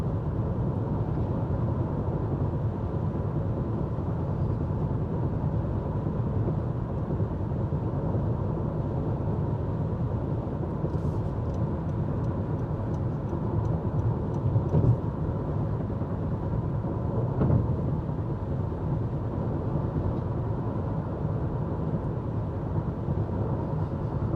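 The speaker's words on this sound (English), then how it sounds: "I will give you the road noise test" Steady broadband road and tire roar fills the cabin of a 2023 Honda CR-V Hybrid Sport cruising at 65 mph on a highway, a constant low rumble with faint passing whooshes and no talking.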